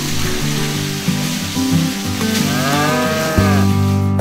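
A carabao water buffalo on a dairy farm moos in loud, continuous low calls lasting about four seconds, the tone rising and shifting partway through, close to the listener with no talk.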